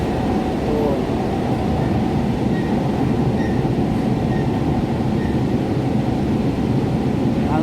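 Metro train riding between Kavi Subhash and Hemant Kumar stations, a steady loud rumble of the carriage throughout with faint rail squeals, without speech.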